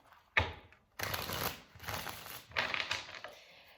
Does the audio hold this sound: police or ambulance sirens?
no